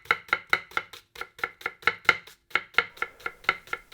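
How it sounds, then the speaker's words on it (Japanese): Knife chopping a halved onion across the grain on a cutting board, a fast steady run of about twenty crisp, close taps in quick rhythm with one brief pause, no voices. "それでは半分に切ってエマンセスライスしていきます。"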